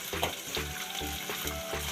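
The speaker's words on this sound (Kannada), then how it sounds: "ಹಸಿಮೆಣಸು, ಲೈಟಾಗಿ ಫ್ರೈ ಆಗಬೇಕು." Green chilies and curry leaves sizzle lightly in a pan while making avarekalu upma, with a steady quiet fry broken by regular scraping stirs.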